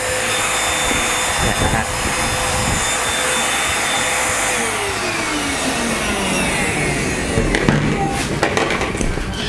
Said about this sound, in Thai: ดูแล้วก็เป็นเครื่องดูดฝุ่นที่ใช้งานไม่ยากนะครับ